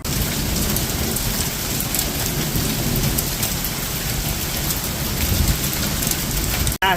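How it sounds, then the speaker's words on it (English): Heavy rain pours in a dense, continuous roar during a thunderstorm, with low rumbling thunder mixed in, loud and unbroken throughout before a brief cut near the end. "We had some crazy thunderstorms too."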